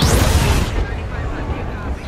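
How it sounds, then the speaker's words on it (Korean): An airplane's engine compartment explodes in a film. A loud, deep, rumbling boom fills the opening second and then decays into a lingering low roar. "비행기 엔진 칸이 폭발합니다."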